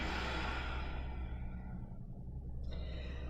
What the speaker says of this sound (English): take a big breath in and a breath out